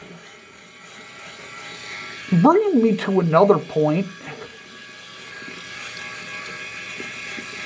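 A Philips Norelco Series 5000 electric shaver hums as a steady low buzz under a man's speech throughout, switched on by accident.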